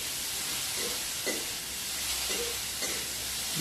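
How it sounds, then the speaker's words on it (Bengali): Food is stirred in a cooking pan under a constant loud hissing sizzle, with several soft scraping strokes at a regular pace. "নাড়াচাড়া করে দিচ্ছি। নাড়াচাড়া না করে দিলে আবার জ্বলে যাবে, বসে যাবে"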